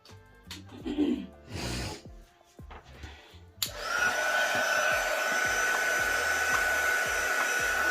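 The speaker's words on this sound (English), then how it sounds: "I have to plug up my embossing tool" An electric embossing heat tool switches on and blows hot air over a 3-D floral paper card, a loud, steady whooshing roar with a faint high whine that holds without a break after a few soft handling knocks.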